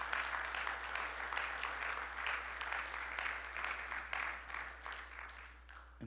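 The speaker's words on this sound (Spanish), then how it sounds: "Dale el aplauso fuerte a Jesús." A church congregation claps loudly and steadily throughout, dense sustained applause filling the hall with only slight swells and no break.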